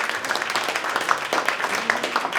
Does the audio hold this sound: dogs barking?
no